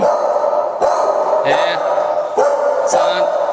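Dogs at a pet shop in a mall bark and yip in short, sharp bursts, a few barks spaced through a busy indoor space with people talking over them.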